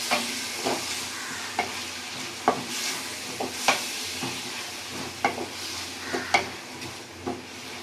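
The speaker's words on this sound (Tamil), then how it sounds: "நல்லா வதக்கி விட்டு கோல்டன் ப்ரௌனில் வர வரைக்கும் நல்லா வதக்கலாம்" Ingredients for dried fish curry are sautéed until golden brown, a continuous frying sizzle broken by repeated spatula scrapes and taps against the pan, close and clear.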